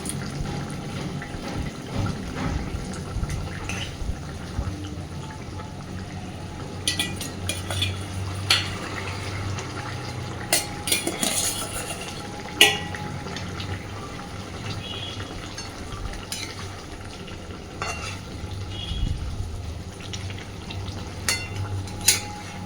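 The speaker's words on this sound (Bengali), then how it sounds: "খুব সুন্দর করে ফুটতে শুরু করেছে" A spicy fish curry with potato and eggplant simmers in a pan with soft bubbling and sizzling, broken by occasional clinks and scrapes of a utensil. No one speaks.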